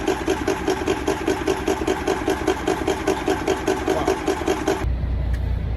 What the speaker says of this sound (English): I can't get the engine to sound like that.